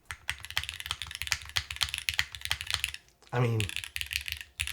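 Fast, steady typing on an Oblique 60% mechanical keyboard gives close, crisp clicks and clacks in a continuous run, with a short spoken remark partway through.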